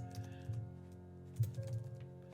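Faint keystrokes on a computer keyboard come in short irregular clusters of soft clicks over a low background hum.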